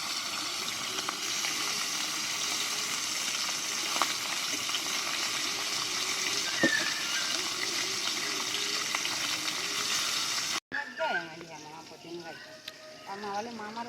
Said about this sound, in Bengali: বড় মাছ তো, পেটিগুলো দিতেই তেলের ওপরে ফুলে ফুলেই ধরবে।